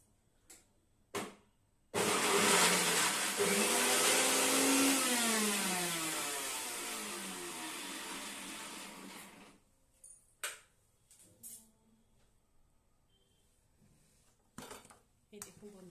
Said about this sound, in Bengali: আমি এবার এখানে মশলাটা বেটে নেব